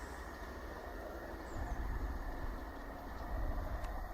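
A modern train on a railway in southern England rumbles along the rails at a moderate distance, a low steady roar that swells slightly midway and again near the end.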